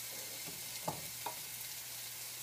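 Hamburger meat frying in a pan with salt-free seasoning: a quiet, steady sizzle with a few faint taps, low in level and with no talk over it.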